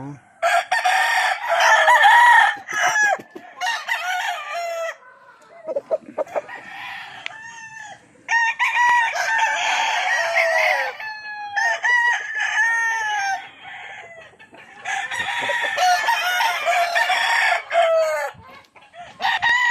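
Gamefowl roosters of a 5K sweater cross breed crow repeatedly in loud, close bursts, with clucking between the calls and short quiet gaps.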